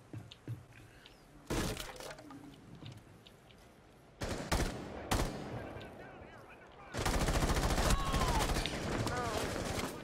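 Video game gunfire comes in bursts of sharp cracking shots and rapid automatic fire, separated by quieter stretches and ending in a loud sustained volley, with a voice talking faintly at times.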